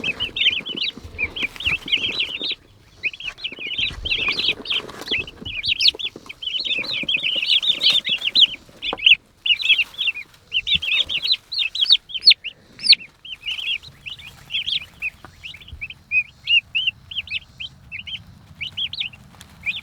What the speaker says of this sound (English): Ten turkeys, straight run from McMurray Hatchery.